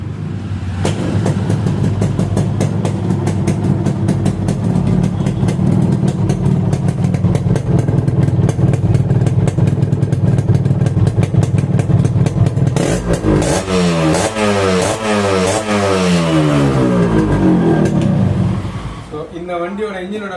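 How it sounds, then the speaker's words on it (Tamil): A restored, modified Yamaha RX135 motorcycle engine idles with a steady rumbling beat, then revs up and down several times before settling back, loud and close. "இந்த வண்டியோட இன்ஜின் பீட் சவுண்ட் பார்க்குறேன்."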